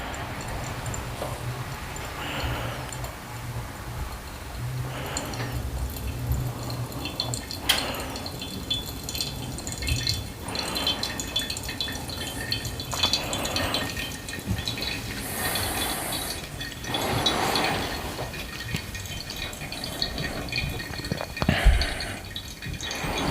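Water from a kettle pours over ground coffee in a pour-over brewer for Little Wolf Coffee's Brazil beans, making soft intermittent trickles and drips across several pours, quiet and close, with no talk.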